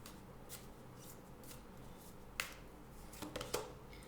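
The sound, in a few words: shuffling oracle cards before drawing one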